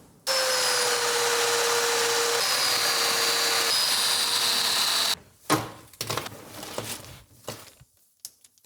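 Power drill with a dull bit boring into wood, a loud steady whine for about five seconds, then stopping, followed by clattering handling and knocking noises.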